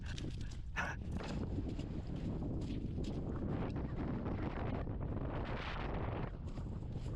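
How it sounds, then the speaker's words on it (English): Strong wind roars across a frozen lake during ice fishing, a loud, continuous buffeting rumble battering the microphone throughout with no pauses. "Man, it is windy."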